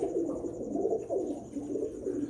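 A prized pigeon coos nearby in soft, repeated throaty rolls, low and rhythmic, with a faint steady hum behind it.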